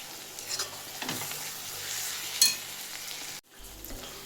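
Masala spices frying and being stirred in a pan for raw masala powder, a soft steady sizzle with scraping stirs throughout, one sharper clink midway, then a brief cut before the frying resumes.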